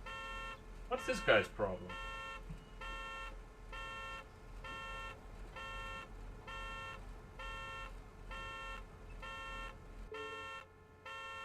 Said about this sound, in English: the honking doesn't need to go throughout the loading screen